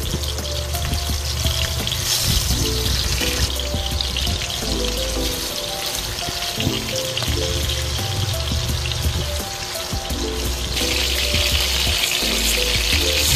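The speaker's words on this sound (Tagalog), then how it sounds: "ilagay na natin yung ating mga chicken para ma-fry lang natin ito" Chicken pieces frying in a pan, a loud, continuous crackling sizzle with busy popping throughout, alone without talk, with a faint musical tone running underneath.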